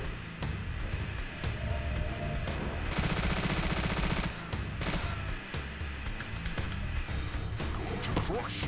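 Rapid automatic gunfire rattles at an axe-wielding enemy in Deadly Premonition, a loud sustained burst in the middle with shorter bursts later, under game noise and a talking voice.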